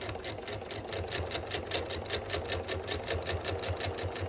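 A sewing machine runs steadily while stitching down the binding on a small quilt, its needle hammering in a fast, even rhythm close by with no talking.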